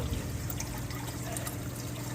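Water pours and trickles out of a homemade emergency filter into a turtle tank, a quiet, continuous splashing flow heard up close with no talking.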